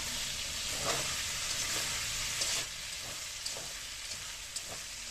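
Onions fry in a pan, a dense continuous hiss broken by soft scraping strokes as they are stirred, with the sizzle easing slightly partway through.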